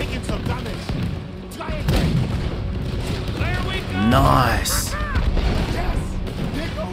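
Heavy battleship cannon fire in Red Dead Redemption 2, a run of deep booms and blasts rolling under constant gunfire and the voices of people talking and shouting.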